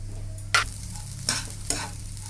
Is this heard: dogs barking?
no